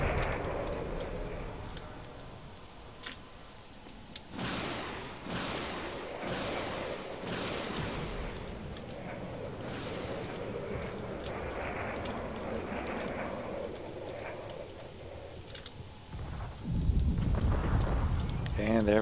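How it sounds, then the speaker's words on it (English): Several massive ship explosions in a space combat video game burst out in quick succession as loud, broad booming blasts over a low rumbling battle background. "And there we go. Massive explosion."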